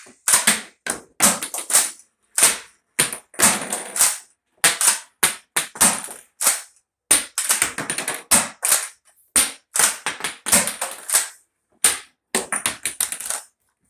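A UDL XM1014 toy blaster firing rapidly, sharp close pops in quick bursts and short volleys with brief gaps, loud and alone, with no talk.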